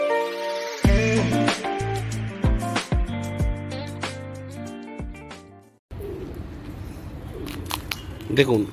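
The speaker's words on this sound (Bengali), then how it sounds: "এত গরমেও পায়রা উড়ে এসে কিরম ডাকছে দেখুন" Pigeons cooing in hot weather, with repeated low, soft calls that sit under a busy mix of tonal sounds and voices, followed by a rougher, noisier stretch.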